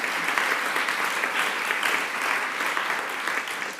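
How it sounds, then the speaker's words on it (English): Steady audience applause at a medical journalism awards ceremony, dense and continuous clapping from a crowd throughout, with no speech over it. "Will you please give them a round of applause too?"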